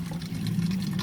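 Water poured gently from a container into a small tomato pot in a greenhouse, a soft continuous trickle and splash lasting about a second with no talk.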